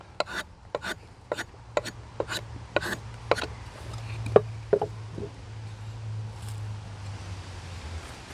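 Drawknife strokes carving and tapering a wooden piece, a steady series of sharp scraping pulls about every half second, close and fairly quiet, thinning out after a few seconds over a low steady hum.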